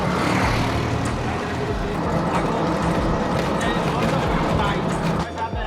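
Steady rumble of road traffic heard from inside a moving auto rickshaw, with engine drone and passing vehicles filling the whole stretch at a constant loud level; a voice talks over it.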